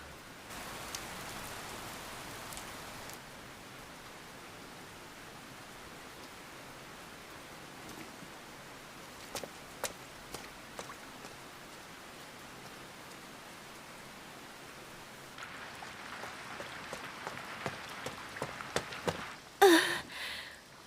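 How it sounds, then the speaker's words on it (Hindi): Heavy rain falling as a steady, broad hiss across the whole stretch, with scattered sharper drops and a brief louder patter near the end. "बारिश शुरू हो गई है।"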